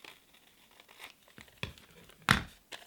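Scissors cut fabric pieces free for a cut-out garment, giving a few sparse snips and crinkly rustles with one sharper louder crunch near the end, close-up and without speech.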